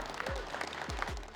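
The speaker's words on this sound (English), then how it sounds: "Please, one more round of applause for Mr. Nis" Audience applause at a GITEX 2024 gaming event, a short burst of clapping heard fairly faint beneath low, pitched sweeping effects and a hint of crowd noise.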